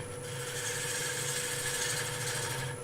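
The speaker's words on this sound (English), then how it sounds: "I'm just going to run the gouge along." A lathe gouge cuts along the wood of a turned bowl, giving a steady, close scraping hiss over the constant motor hum.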